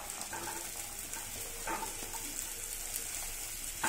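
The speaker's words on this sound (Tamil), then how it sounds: "நல்லா இப்போ பட்டரில் நல்லா வதக்கியாச்சு" Chopped vegetables, including small onions, sauté in butter in a pan for a vegetable soup. A steady close sizzle runs throughout, broken by a few soft stirring scrapes, with no talking.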